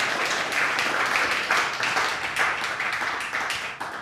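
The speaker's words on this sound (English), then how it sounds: "Can we give our panel a round of applause for all that they do and all that they've said?" Steady audience applause for a panel at a church gathering, a dense wash of many hands clapping continuously at moderate volume, easing slightly toward the end with no talk over it.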